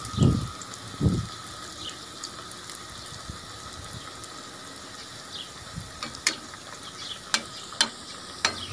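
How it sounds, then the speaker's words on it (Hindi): Chicken vegetable rolls frying in ghee over high heat, a steady close sizzle with a couple of heavy low thumps at the start and crisp crackling pops near the end, with no voices. "अब इनको घी के अंदर फ्राई कर लेना है।"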